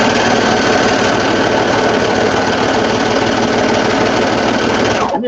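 A sewing machine stitches fabric containers in one continuous, loud, even whir of rapid needle strokes that holds steady until it cuts off near the end.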